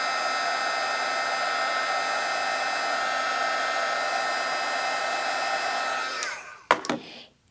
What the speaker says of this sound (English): now I'm going to emboss that using my heat tool.